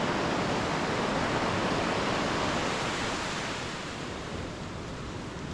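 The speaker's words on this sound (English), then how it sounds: "The waves are crashing" Continuous broad wash of surf at Halfmoon Bay near Ucluelet, on the west coast of Vancouver Island, a steady roaring hiss of waves that eases slightly toward the end, with no voices.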